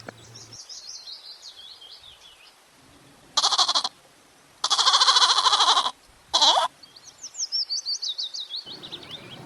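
A goat bleats in three loud, wavering calls with short gaps between them, set against cheerful chirping birdsong at the start and end.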